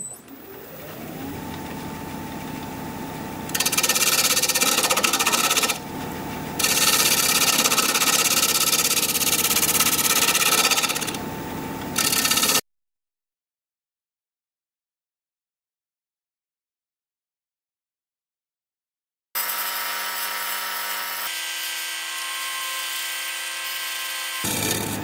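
Wood lathe spinning a pedestal bowl blank at 1,000 RPM, a steady motor hum with the cutting tool scraping and hissing louder in stretches, then a gap of silence before the motor drones again.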